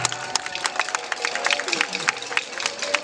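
Festival audience clapping in a dense, continuous patter of many hands with murmuring crowd noise, people talking over it.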